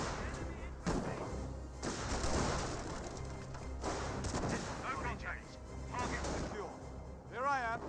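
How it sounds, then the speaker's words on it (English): A Scope Rifle squad firing in Company of Heroes, the WWII strategy game: sharp, loud bursts of rifle gunfire at irregular intervals, mixed with crashes and battle noise. "Got the Scope Rifle squad firing away"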